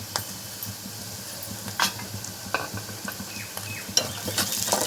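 Onions and green chillies fry and sizzle in a pan for a fish gongura curry, a steady soft crackle broken by scraping stirs of a utensil against the pan.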